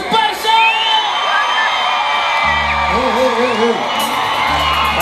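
A concert crowd at a show in Nicaragua cheers, whoops and whistles loudly and continuously, with band music joining partway through.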